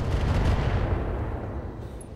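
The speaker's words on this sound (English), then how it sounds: "we'll hit the Warhammer 2C in its weak arc with our LRMs" Sustained rumbling barrage of long-range missile fire launched at a Warhammer 2C mech in the RogueTech battle game, a dense, loud wall of low booms that tapers slightly toward the end, with no talking.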